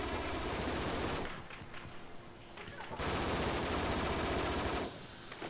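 Automatic gunfire from the video game Call of Duty: Modern Warfare comes in two dense, loud bursts of rapid shots, separated by a brief quieter gap.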